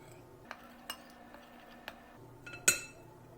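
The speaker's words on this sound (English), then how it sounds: "And then we're going to mix that so it's well distributed into the flour" A spoon or whisk stirs flour, sugar and powder together in a bowl for cream biscuits, producing a few sparse light taps and clinks against the bowl, quiet and close, ending with one sharper clink.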